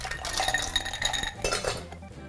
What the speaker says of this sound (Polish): wrzucamy lodu do niskiego szkła.